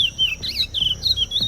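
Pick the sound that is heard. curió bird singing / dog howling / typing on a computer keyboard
curió bird singing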